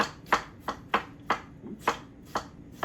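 Knife slicing through strawberries on a cutting board, giving eight or so crisp, evenly spaced chops at a steady rhythm, close and clear with no talk.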